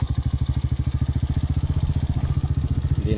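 Motorcycle engine idling in a fast, steady putter close by, with a slight clatter near the end as the bike is eased down a slippery slope.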